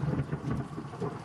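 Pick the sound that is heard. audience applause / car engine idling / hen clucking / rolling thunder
rolling thunder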